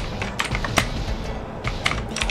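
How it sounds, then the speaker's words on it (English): Close, moderately loud typing on a computer keyboard, with irregular clusters of quick key clicks over a faint background hum and no talking. "Search, bunch of typing,"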